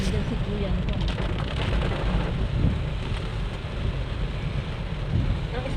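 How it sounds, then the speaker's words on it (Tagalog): A heavy, continuous wash of September rain at a hospital roars without letup, with a deep rumbling undertone throughout. "Grabe ulan."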